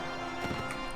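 Horse hooves thud in the Mount and Blade Warband video game, a short burst of clip-clop strikes over a steady background bed of game ambience.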